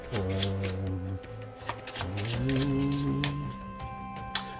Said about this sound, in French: je vais mélanger un petit peu ce jeu